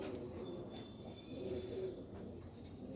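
Pigeons kept for sale coo softly and steadily in a low, continuous murmur, with faint chirps mixed in and no talking.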